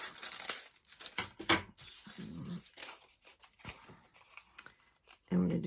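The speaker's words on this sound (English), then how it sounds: "I'm going to go ahead and cut 2 of those." Scissors cut pieces of crepe paper for a holiday pine cone craft, giving close crisp snips and crinkling rustles in bursts, with a brief voice near the end.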